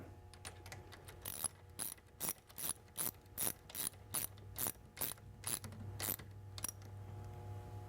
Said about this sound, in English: Then you take a 1/2 inch ratchet